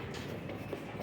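A metro train at an elevated station gives a steady, close, rumbling roll with faint rail clatter, with no talk.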